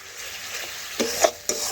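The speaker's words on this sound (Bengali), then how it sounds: "মশলা ভালোভাবে কষে নিয়েছি" Spices for a chicken dish stir-fried in a pan: a steady sizzle with a few scraping knocks of a utensil against the pan toward the end, close by and without speech.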